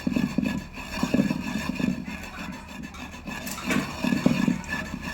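A wooden pestle (ghota) works through a chilli pickle mix of turmeric and salt, making repeated close rubbing and scraping strokes in an uneven rhythm with no talking.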